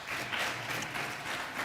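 Audience at a Kajiado senatorial debate at Africa Nazarene University applauds with steady, dense clapping that stays even and moderately distant throughout, no voices on top.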